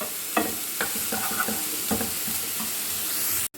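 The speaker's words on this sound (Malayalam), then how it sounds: "ഇട്ട് കൊടുത്ത് ഇത് നന്നായിട്ട് ഇളക്കി കൊടുക്കാം. ഇതൊന്ന് ചെറുതായിട്ടൊന്ന് വഴലണം." Chopped beetroot sautéing in an oiled pan for a beetroot thoran, a steady close sizzle broken by several scraping strokes of a spoon as it is stirred.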